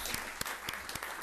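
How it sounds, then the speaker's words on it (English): Brief applause at a town selectmen's meeting, a steady patter of claps from a small audience, moderately loud and quickly over. "Could have a round of applause for Mr. Pyers."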